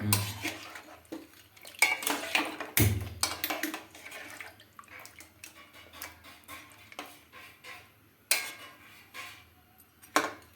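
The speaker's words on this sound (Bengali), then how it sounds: "দইটা দেখাটাকে ভালো করে নাড়িয়ে দাও দইটার সঙ্গে মিশে যাবে" A yogurt mixture being stirred in a cooking pot for mutton biryani, with repeated metallic spoon scrapes and clinks against the pot in an irregular rhythm over a soft background hum.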